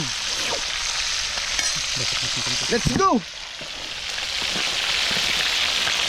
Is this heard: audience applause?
no